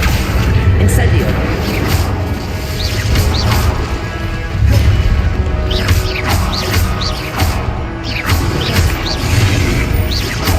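Fiery Incendio spell blasts in Hogwarts Legacy during a duel, several bursts of crackling flame and impact among whooshing casts and loud combat noise, with shouted spell calls throughout.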